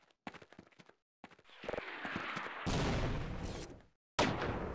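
Gunfire in Half-Life: Opposing Force aimed at an enemy on a mortar: a few sharp separate shots, then a heavy sustained blast of noise, a sudden silence and another loud burst, all close.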